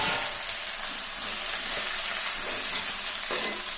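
Cut eggplant pieces go into hot oil tempering for an eggplant curry, giving a loud, continuous close-up sizzle and crackle of frying with no pauses.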